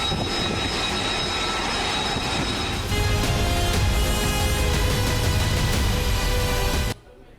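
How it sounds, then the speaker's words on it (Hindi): Fighter jets roar overhead in a loud, dense, continuous engine rush that intensifies partway through and then cuts off abruptly just before the end. "दो 200 से ज्यादा फाइटर जेट, ट्रंप के टारगेट सेट"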